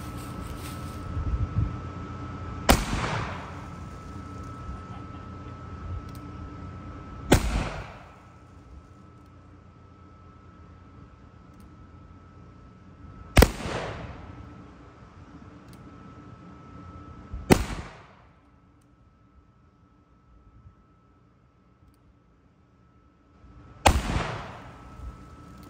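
A cheap flea-market muzzleloader fires five loud, booming shots spaced several seconds apart, each blast sharp and then trailing off in a decaying echo, with quiet between the shots.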